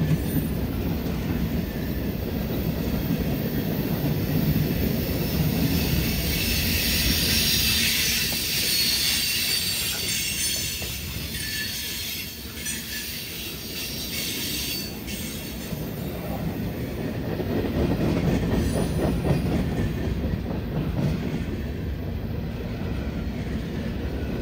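A long manifest freight train, M652, rumbles steadily past up close on the Big Sandy line, with a continuous heavy roll of wheels, occasional high metallic squeals, and faint rhythmic clatter throughout.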